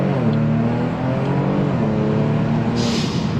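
A tuned Kia Stinger accelerates hard, its engine roaring loud and close with a steady, strained drone that holds through the pull, briefly broken by a hissing whoosh near the end.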